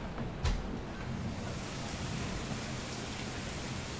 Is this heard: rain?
yes